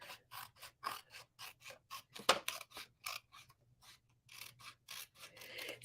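Scissors snipping through card-making material in a steady run of short, crisp cuts, close and fairly quiet, with one sharper snap midway and no talk.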